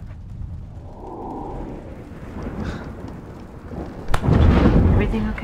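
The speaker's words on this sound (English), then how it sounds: "The storm scared her a bit." A thunderstorm with a low rumble of thunder under steady rain, then a sudden sharp crack and a loud, sustained roll of thunder close by, with no voices over it.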